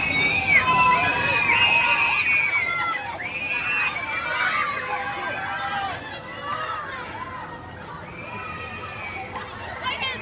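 Riders scream and shout on a roller coaster lift hill at Paultons Park, a theme park, heard as a loud, sustained mass of high, wavering cries from a crowd over several seconds, with some babble mixed in.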